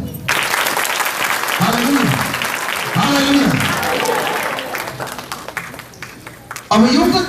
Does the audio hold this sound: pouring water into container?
no